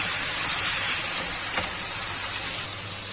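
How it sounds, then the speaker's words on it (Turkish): Eggplants frying in a pan alongside minced meat, onion and pepper, a loud steady broadband sizzle and hiss, close and continuous with a brief crackle midway. "patlıcanlarımız kızarmaya devam ediyor"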